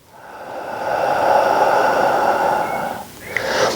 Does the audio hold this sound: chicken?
no